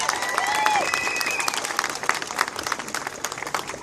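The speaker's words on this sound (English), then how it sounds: "Give her an applause." An audience at the March in March rally in Katoomba bursts into loud, dense applause for speaker Susan Templeton, with a brief whistle or cheer near the start before the clapping continues evenly.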